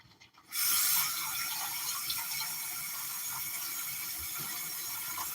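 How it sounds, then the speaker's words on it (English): Water pours steadily into a glass dog bowl for a dog named Apollo: a close, constant rushing stream that starts abruptly after a brief quiet moment and holds without a break. No one speaks. "Okay, let me give you water."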